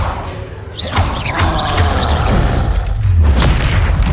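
Expelliarmus spell cast in Hogwarts Legacy, a dense booming burst with whooshing magical swirls and repeated rising zaps, loud and close, sustained for several seconds.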